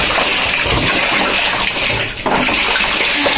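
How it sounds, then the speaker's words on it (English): Water poured over a person rinsing in a village bathroom shower, a loud, continuous close-up splashing that briefly dips in the middle before resuming. "I have rinsed myself round one, and of course we are going to rinse two times"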